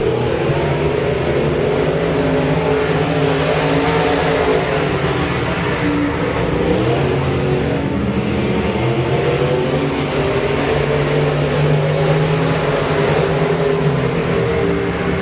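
Modified race cars in a Limited Modifieds heat race roar around the Boothill Speedway oval, a steady, loud engine drone that swells and fades as the pack rolls by, with no talk over it.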